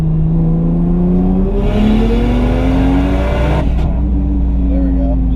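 A Toyota JZX100 Chaser engine climbs in revs under load, a loud rising drone that suddenly chops off at the factory ECU boost cut, then settles lower, with a voice talking over it.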